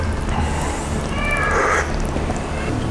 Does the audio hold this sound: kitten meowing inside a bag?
yes